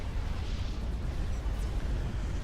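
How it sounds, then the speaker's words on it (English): A commander unit blows up in the real-time strategy game Supreme Commander, heard as a steady, dense, rumbling roar of explosion noise that holds loud and even throughout, with no distinct separate blasts. "We won't miss the comm explosion that's about to take place."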